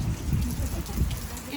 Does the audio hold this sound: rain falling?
yes